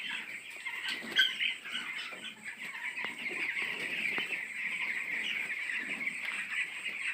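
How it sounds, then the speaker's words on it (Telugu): Young chicks wander about and feed, giving off a steady, faint chorus of high peeping and soft clucks with little else around. "కోడి పిల్లలు అయితే ఇలా తిరుగుతున్నాయి. చూసారుగా ఎలా ఉన్నాయో."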